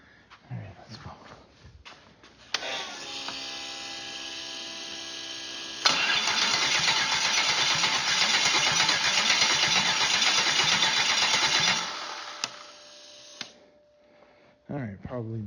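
A 6LDBW marine diesel engine being cranked over without catching, a loud steady churning that runs for several seconds before stopping, with brief bursts of talk before and after.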